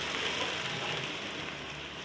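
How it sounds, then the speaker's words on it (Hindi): Chopped onions frying in hot oil for a chicken salan, giving a steady, close, dense sizzle that holds evenly for about two seconds with no talking. "तेल में डालेंगे प्याज और प्याज को अच्छा सा फ्राई करेंगे।"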